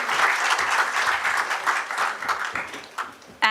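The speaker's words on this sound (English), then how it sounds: "thunder of applause as our president rightly says" Audience applause at a hotel seminar on green initiatives, a lively burst of many hands clapping that gradually thins and fades, with a few louder claps near the end.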